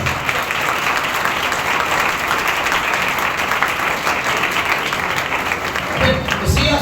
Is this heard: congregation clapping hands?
yes